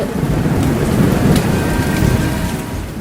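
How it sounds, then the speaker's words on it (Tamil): Heavy rain pours down continuously, with deep rolling thunder rumbling beneath it, creating a dense, loud storm ambience with no voices present. "அப்பதான் ஆகாயத்துல பயங்கரமான இடி இடிச்சு பயங்கரமா மழை பெய்ய ஆரம்பிச்சுது."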